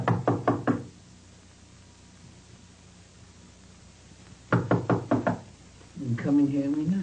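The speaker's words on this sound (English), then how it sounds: "the two partners, knock on the door of Chan's neighbor looking for the missing Chan" Two sets of firm knuckle raps on a door, four quick knocks each, separated by a pause, in a black-and-white film scene; a voice speaks right after the second set.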